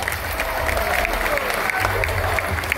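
Applause for a performance of Nabucco at a folk festival concert, a dense, loud crowd clapping continuously with a low hum of the venue underneath.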